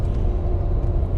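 A Ferrari Testarossa's engine rumbles low and steady at idle, a deep continuous drone close by for about a second.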